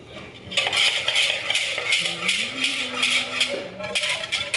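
A utensil beats and stirs a milk and sugar mixture in a bowl, giving continuous fast scraping and clinking strokes in a brisk steady rhythm, close and fairly loud, with a faint voice murmuring briefly underneath.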